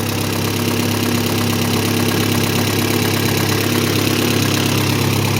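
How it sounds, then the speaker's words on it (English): A Honda Prelude with a turbocharged F23 engine idles with an exhaust leak in the center pipe, making a loud, steady, close drone with a fine rapid ticking pulse and no voices. "Oh no, there's plenty of exhaust leak on this pipe."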